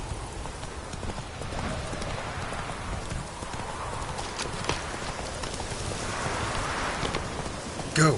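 Roach the horse clip-clops steadily at a walk through a rainy world in The Witcher 3: Wild Hunt, hoofbeats close and even under a constant patter of rain with a faint distant rumble.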